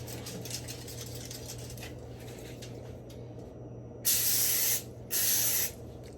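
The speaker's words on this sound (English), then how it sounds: "Line a large rimmed baking sheet with tin foil and generously coat with cooking spray." Cooking spray hisses onto a foil-lined rimmed baking sheet in two loud bursts of about half a second each, after a stretch of quiet room noise.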